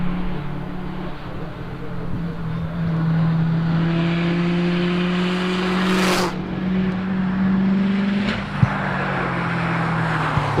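A 2015 Subaru WRX STI, number 142, powers through a hairpin at the Legend of the Lakes hillclimb, its engine note rising and falling across gear changes at moderate distance with a brief whoosh midway.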